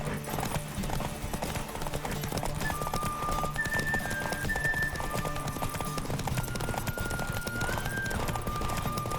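Rapid, steady hoofbeats of a galloping horse in The Witcher 3: Wild Hunt, close and continuous, with faint music tones above and a voice speaking briefly at times.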